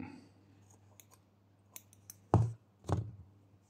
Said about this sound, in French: On va donc couper le fil